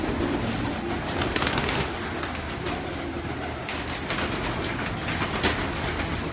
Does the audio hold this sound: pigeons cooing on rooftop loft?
yes